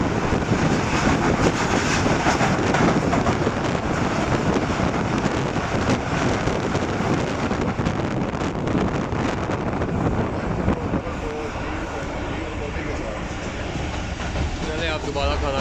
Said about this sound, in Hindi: बाहर ट्रेन आ रही है 12 डाउन हज़ारा एक्सप्रेस